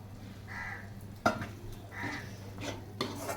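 Masala green moong gravy stirred in a pan with a pinch of sugar, giving soft scraping strokes, one sharp clink of the spoon against the pan, and a few quieter taps over a low hum.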